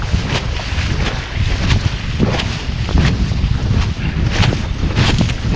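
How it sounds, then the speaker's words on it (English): Gusty wind buffets a microphone aboard a sailboat underway, with rushing air and water noise swelling and easing in irregular surges; no one speaks. "And here's some wind."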